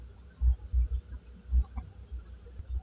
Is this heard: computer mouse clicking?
yes